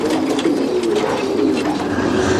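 Pigeons coo in a low, continuous chorus inside a racing pigeon loft in Germany, many birds overlapping close by with steady, throaty murmurs and no talking.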